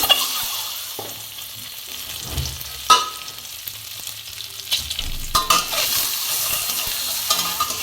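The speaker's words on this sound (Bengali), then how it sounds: "ডিমগুলোকে ছেড়ে চলো ভাজা যাক।" Eggs fry in hot oil in a wok, producing a continuous moderate sizzle with occasional sharp crackles and scraping spatula strokes against the pan, with no talk.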